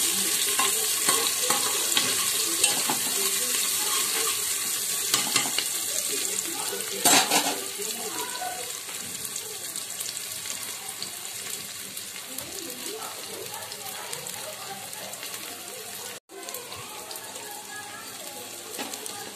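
Onions fry in a pan as the base for a vegetable biryani, giving a steady, close sizzle with occasional stirring and utensil scrapes. Intermittent talk sits over the frying.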